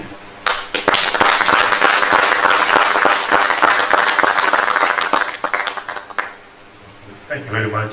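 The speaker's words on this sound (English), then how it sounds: "Let us continue giving him some round of applause." Sustained audience applause fills a funeral conference hall in Kenya, loud and dense clapping for about six seconds before thinning out, with a voice beginning to speak near the end.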